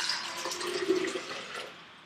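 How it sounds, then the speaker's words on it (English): Warm water pours into a Vitamix blender jar, a steady splashing rush that lasts about two seconds before tapering off, with no voices. "And I'm going to put some lovely warm water in there for a starter."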